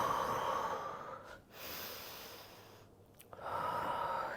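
Slow, audible breaths during a full-body strength flow exercise, a long airy exhale followed by softer breathing and another strong breath, close and alone without talking.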